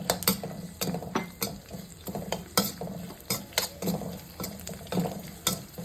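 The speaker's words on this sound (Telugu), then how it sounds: "అలాగే పచ్చిమిరపకాయలు అన్నీ వేసి దీన్ని కొంచెం ఫ్రై చేయాలి" Green chillies fry in a pan for moringa upma, with a brisk sizzle under rhythmic spatula scrapes and light clinks against the metal, heard close with no talking.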